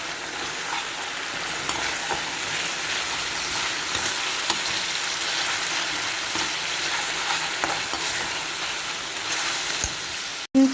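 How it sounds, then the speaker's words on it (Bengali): A paste of ginger, garlic, onion and chili sizzles hard in a pan, a close, even hiss with faint stirring scrapes, ending in a sudden knock. "মশলাটা আমি এবারে ভালো করে ভেজে নেব।"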